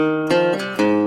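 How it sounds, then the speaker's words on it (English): A hooky riff picked on a resonator guitar, with bright metallic ringing notes struck in a few quick accents, played close and clear without any voices. "So I grabbed my resonator guitar and played this."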